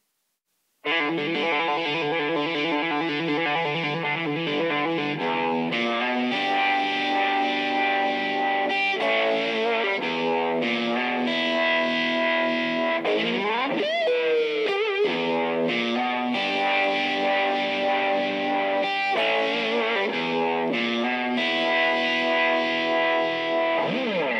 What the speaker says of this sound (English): I'll give you a demonstration of the overdrive into the distortion first